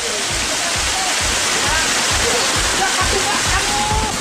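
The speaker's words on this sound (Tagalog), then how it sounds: "Isang talon kung saan pwedeng mag-relax pagkatapos ng mahabang lakaran." A waterfall at the end of the WWII tunnels in Albay pours in a constant, dense rush of falling water, loud and close, with steady splashing and no pauses.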